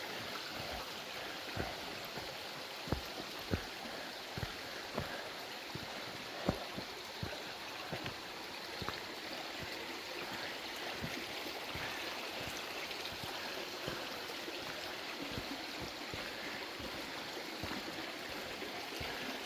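A woodland stream and small waterfall in Puck's Glen, Scotland, rushing and trickling steadily close by, with faint scattered knocks and taps over the continuous flow.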